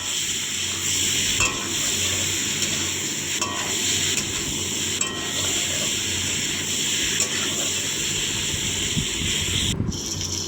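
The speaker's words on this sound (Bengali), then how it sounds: "দিয়ে সেটিকে ভালোভাবে মিশিয়ে নেব আর ভাজতে থাকবো।" Freshly salted and turmeric-seasoned food fries in a pan with a steady, close sizzle and hiss, plus a few soft stirring scrapes and a brief clink near the end.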